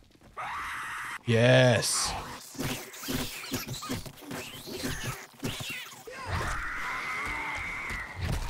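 A screamer zombie in the survival video game 7 Days to Die lets out a loud shrill scream in bursts, mixed with game noise and someone talking over it.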